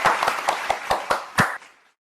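Several distinct hand claps, about seven sharp strikes at a steady pace, close and fairly loud, fading out as an audience applauds a contestant at an Indonesian quiz show.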